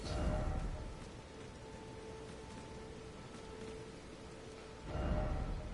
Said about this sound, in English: Rainy day in Limgrave, I'll tell you.